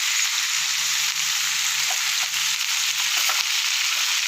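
Tomatoes and drumsticks frying in a pan give off a steady, close sizzle that runs unbroken from start to finish, with a faint low crackle underneath.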